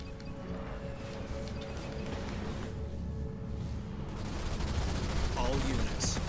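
Ground troops fire in a Halo Wars 2 battle on legendary difficulty, rapid overlapping gunfire and explosions building in a dense, continuous barrage under a game soundtrack and voiced unit callouts.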